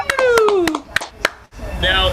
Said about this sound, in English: give them a loud round of applause, folks